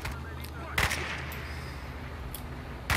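Combat in the video game S.T.A.L.K.E.R.: Call of Pripyat: a sharp, loud blast near the start, then another crack later and a third at the very end, over a low rumbling background.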